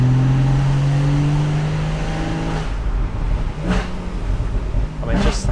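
A Porsche 981 Boxster GTS with PDK gearbox hums steadily with a low harmonic drone while driving, then revs rise in short bursts, loud and close, with faint road noise throughout.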